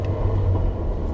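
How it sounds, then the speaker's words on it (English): A car engine drones steadily with a deep rumble as revs are raised during a double-clutch downshift into third gear, a short stretch of continuous motor noise without any voices. "I'm going to downshift into 3rd, and I'm going to raise the revs."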